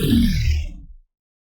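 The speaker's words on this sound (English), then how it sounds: "So I was working on this synth patch." Experimental synthesizer patch resembling an organic ripping or tearing, a single gritty, growling burst about a second long that drops in pitch and fades quickly into silence.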